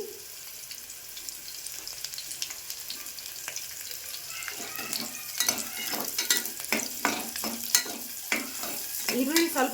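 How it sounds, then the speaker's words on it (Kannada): Cashews frying in a pan of oil for a spiced rice dish, a soft sizzle that swells and crackles more busily after a few seconds, with spoon stirring scrapes and no talking. "ನೆಕ್ಸ್ಟ್ ಗೋಡಂಬಿಯನ್ನು ಹಾಕ್ತಿದ್ದೀನಿ"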